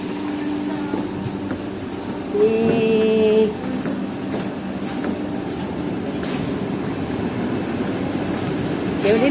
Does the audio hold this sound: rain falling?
no